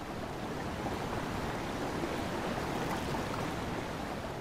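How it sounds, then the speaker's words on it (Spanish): A waterfall in a Zelda video game gives a steady, dense rush of falling water, an even broadband roar with no breaks or voices. "Ah, es una cascada."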